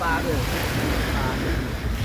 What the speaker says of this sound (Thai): เสียงคลื่นนะครับ